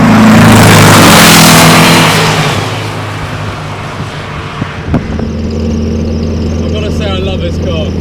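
A modified VW Type 1 Beetle on the road with a Porsche 356 following, engine droning loudly under heavy wind rush at first, then settling to a steadier, quieter hum.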